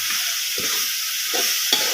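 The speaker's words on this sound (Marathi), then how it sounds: "बघा अशी मस्तपैकी परतून घेतली" Komdaba, a wild leafy vegetable, sizzles in a hot pan while a spatula scrapes and tosses it in several rhythmic strokes over a constant frying hiss.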